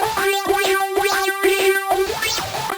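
The Standard Bend Poly synth preset from the Expand plugin plays a bright, bouncy repeating pattern of pitch-bending notes, steady and upfront for under three seconds, in a trap beat setting.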